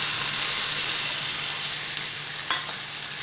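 Spiced masala sizzles in hot oil after water is poured into the pan while making egg katli, a steady close hiss with a couple of brief sharper spits near the end.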